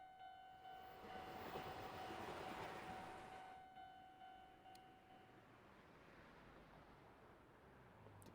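A train passes a level crossing in the video game Spirit Hunter NG, a steady rolling rumble with a sustained tonal horn-like drone that fades after a few seconds, leaving quieter ambient rail noise.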